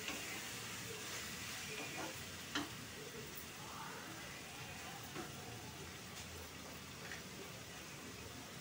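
Tomatoes fry in a pan with a faint, steady sizzle and hiss under occasional soft clinks.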